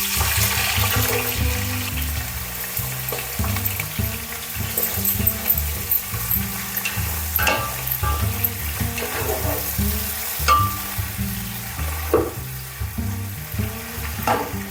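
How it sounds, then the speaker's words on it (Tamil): Chopped onions with garam masala fry in oil for a seeraga samba chicken biryani, giving off a steady crackling sizzle with intermittent stirring scrapes and clinks, close and alone. "அடுத்து நம்ம கட் பண்ணி வச்சிருக்கிற வெங்காயத்தை சேர்த்துக்கலாம்."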